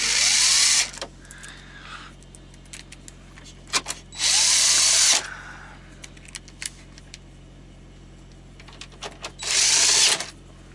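A power drill drives screws during work on a dump valve and load scale: three loud, close whirring bursts about four seconds apart, each lasting roughly a second, with small clanks and rattles in between.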